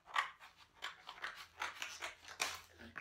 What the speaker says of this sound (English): I'm just going to open up this right in front of you. Use my scissors.